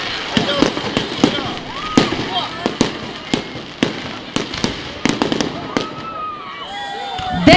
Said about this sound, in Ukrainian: І ось так, святковими салютами радувати вас не тільки у свята